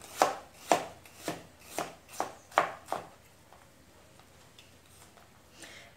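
A knife chops onion in feather-cut slices on a board, about seven sharp, evenly spaced knocks close by, then softer, scattered taps trailing off.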